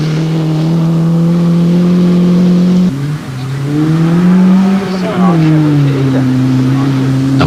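A Range Rover Special rally car at a 1987 safari race holds a loud, close engine drone, dips briefly, then climbs and revs again. A commentator's voice runs over it.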